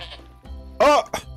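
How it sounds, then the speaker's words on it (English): Sheep bleating in modded Minecraft, a single short nasal bleat standing out clearly after softer game sounds, with a second brief call at the end. "A rainbow sheep? What the heck?"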